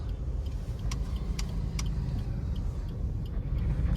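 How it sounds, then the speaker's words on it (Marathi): A Maharashtra state transport red bus rumbles past on a road near a temple town, a steady low engine drone with faint jangling rattles, close and continuous. "आता लालपरी आले, थांबा लालपरी गेल्यावर दाखवतो"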